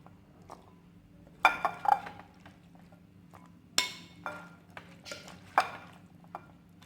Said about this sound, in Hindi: ये हम अच्छे से मिक्स कर लेंगे, इसको बहुत अच्छे से सब मिक्स हो जाए।